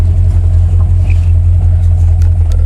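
A 1987 Dodge Dakota fitted with an SBC 350 engine running: a loud, steady, close low rumble with a constant throb, heard alone with no voices.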